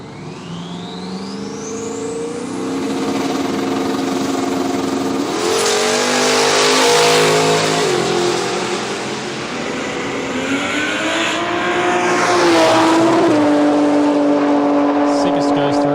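Radial drag racing cars at Willowbank, including Kyle Hop's Camaro, launch and roar down the strip; engines rev and climb in pitch through gear changes, loud and close, with commentary voices over them.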